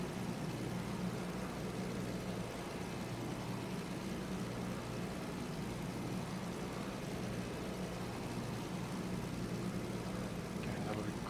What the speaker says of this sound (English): Some more jet sounding sounds.